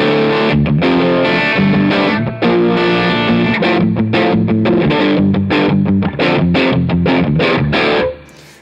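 Electric guitar driven through a boosted Catalinbread Dirty Little Secret Deluxe pedal into a Marshall-style amp: loud, crunchy, rhythmic chord riffing with choppy palm-muted stabs, played alone and close for several seconds before cutting off.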